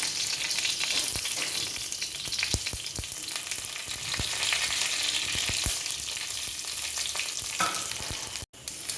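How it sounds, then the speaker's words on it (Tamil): Fennel, cinnamon and cloves frying in hot oil in a kadai, a dense continuous sizzle with scattered small pops and crackles, close and loud, ending with a brief knock, no talk. "வந்து எண்ணெய் ஊற்றிக்கிறோம். பாசி, சோம்பு, பட்டை, லவங்கம் எல்லாமே போட்டுக்கிறோம்."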